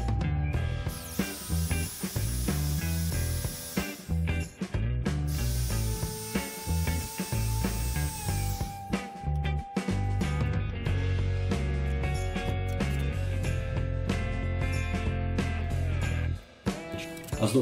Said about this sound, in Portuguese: eu optei por fazer primeiro furos com broca bem fininha